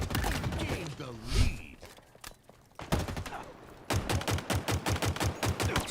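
A new pistol fires in Halo Infinite, rapid evenly spaced sharp shots in a steady rhythm after a brief burst earlier, with a voice talking over the first few seconds.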